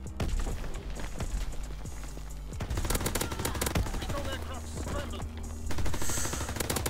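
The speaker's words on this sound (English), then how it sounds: "Getting shot at." Rapid automatic gunfire in a shooter video game with an MP-40 submachine gun: dense bursts of shots crackle steadily throughout, loud and close, mixed with other game effects.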